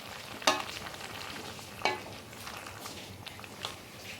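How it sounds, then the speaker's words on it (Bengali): Fried eggs and green chillies being stirred into a bubbling egg-and-potato curry: a soft, close sizzle with two sharp spatula knocks against the pot near the start and lighter scrapes later. "এগুলো একবার ভালো করে মিশিয়ে নিচ্ছি।"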